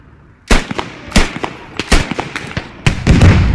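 Self-propelled artillery fires in the military shooter game Squad: a run of sharp, heavy booms, each with a rumbling tail, spaced irregularly over a few seconds, loud and fairly close.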